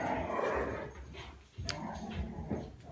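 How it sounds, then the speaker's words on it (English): Dogs fight with each other indoors, a rough scuffle of growls, yips and whimpers, heard fairly faintly with brief sharper cries. "Dogs are fighting amongst each other."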